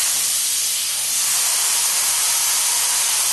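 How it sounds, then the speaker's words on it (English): Air impact wrench fitted with an 11/16 socket on a 1976 Corvette upper control arm bolt, a loud continuous hissing, whirring burst that runs steadily without pause, close up, with no speech. "going to hit it with the impact wrench with an 11/16 socket in it"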